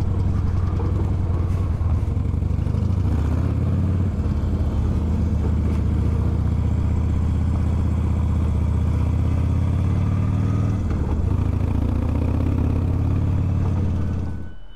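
A motorcycle engine runs steadily and loud throughout, a continuous low rumble with slight shifts in pitch as the bike pulls out of an abandoned desert village onto the road, with no voices.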